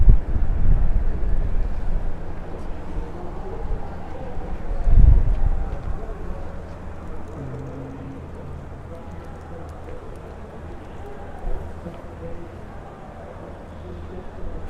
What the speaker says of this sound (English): You can just see the wind shaking the camera.